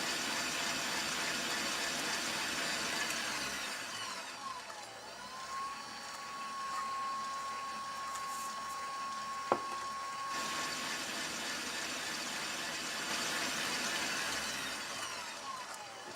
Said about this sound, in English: Beat the mixture, increasing the speed of the mixer, for approximately 1 minute between each addition of sugar.